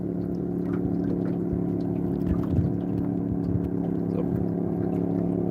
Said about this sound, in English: Big old two-stroke motor coming, guys.